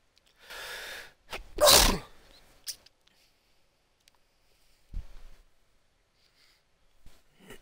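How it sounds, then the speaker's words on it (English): A person sneezes once, loud and close, right after a quick breathy inhale, followed by quiet breaths and faint small noises. "That sneeze thankfully didn't include lung juice."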